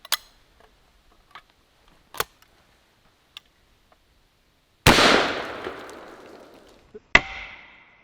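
A 12 gauge birdshot shotgun blast hits a syrup jar outdoors: one loud sharp report with a ringing, decaying tail, then a second crack, among scattered faint ticks and clicks.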